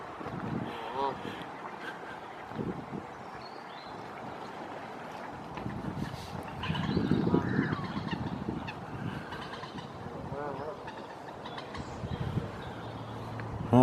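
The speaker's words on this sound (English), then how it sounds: "Canada geese." Canada geese call from the water at Winterley Pool near Sandbach, with honking bursts swelling mid-way over breezy outdoor ambience.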